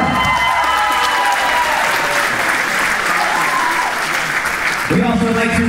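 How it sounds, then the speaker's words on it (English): Wedding guests at a Westford Regency reception applaud the bride's grandmother, a loud, sustained wash of clapping and crowd noise over background music, with voices rising near the end. "How about a big hand for the grandmother of the bride,"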